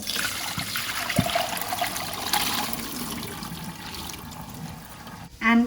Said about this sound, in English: I am going to drain these